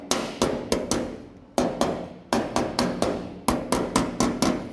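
A small pick hammer taps the metal body of a 1929 roadster in quick bursts of three to four sharp ringing strikes, each followed by a short pause, close and clear.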